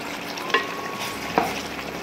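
Gongura chicken curry stirred in a pan after simmering, a steady low bubbling sizzle with two distinct spoon knocks against the pan about a second apart, close and without speech.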